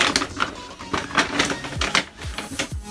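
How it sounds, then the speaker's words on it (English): Plastic shopping bag from a clothing haul crinkling and rustling in bursts, close and fairly loud, with uneven handling noises over about three seconds and no talking. "I'm sorry that the bag makes a lot of noise"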